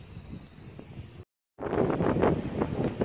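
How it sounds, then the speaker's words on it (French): Strong wind buffets a microphone outdoors in the Normandy countryside, a rough low rumble that drops out to silence briefly, then returns louder and gustier. "Je suis sorti avec beaucoup de vent donc c'est pas sûr que vous entendiez ce que je dis."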